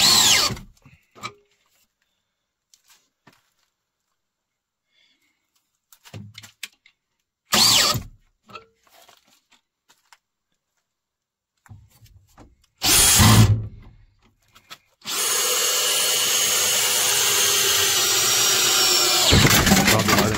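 A DeWalt 796 cordless drill driver runs in second gear, with several short bursts of whirring and then one long, steady, loud run near the end, separated by silence.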